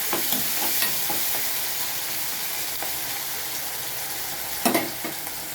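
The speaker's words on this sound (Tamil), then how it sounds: "இஞ்சி பூண்டு பேஸ்ட் சேர்த்து இதுவும் நல்லா வதக்கணும்." Ginger garlic paste sautéing with tomatoes in a hot pan gives a steady broadband sizzle, with a few scraping stirs and a sharper clatter near the end. No talking is heard.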